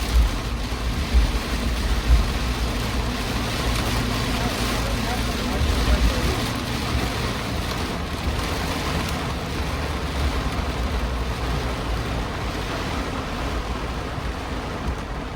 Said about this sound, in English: This is a good afternoon thunderstorm right here.